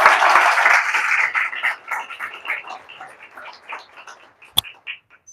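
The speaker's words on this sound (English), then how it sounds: "Everyone give Akil a round of applause." An audience at a 1 Million Cups Chicago startup gathering applauds a speaker, clapping loud at first then thinning and fading into scattered claps.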